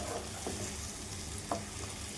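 A spoon works through taro root curry coated in spices in a pan. There are a few faint scrapes and clicks over a quiet, low sizzle, with no talk.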